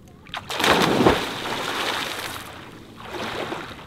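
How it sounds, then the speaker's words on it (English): A man diving into about a foot of shallow water outdoors, one sudden loud splash followed by sloshing and churning water that fades, then a second smaller swell of splashing. "Captain Joe just dove into like a foot of water"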